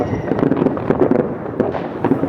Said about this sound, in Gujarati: બધી બાજુ ફટાકડા બધા જ ન્યુ યર મનાવે છે.